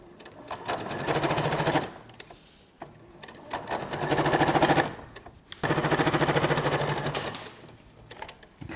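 A sewing machine set to its widest stitch runs two long rows of stitching on a christening gown, loud and steady, with short pauses between bursts.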